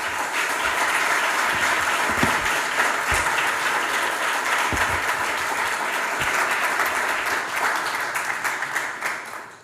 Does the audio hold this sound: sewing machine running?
no